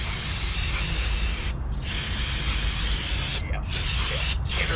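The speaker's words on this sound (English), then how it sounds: "spray down these suckers with a generous amount of brake clean" Brake cleaner sprays in a steady, loud hiss onto the front brake parts of a Honda Civic, with brief pauses between bursts and no talking.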